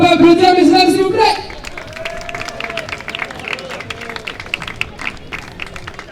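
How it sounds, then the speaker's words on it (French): Audience applause for a padel pair at a FIP Silver tournament, a burst of clapping and crowd noise rising after a short announcer's voice, then lingering scattered claps and chatter. "qu'on peut applaudir, mesdames, s'il vous plaît"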